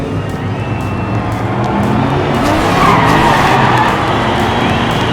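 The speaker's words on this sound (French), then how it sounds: "Drift de Lara qui permet à Goose de la rattraper" Diecast racing cars drifting through a corner of a miniature race track, a continuous loud skidding screech with engine-like whine holding steady and swelling slightly toward the middle.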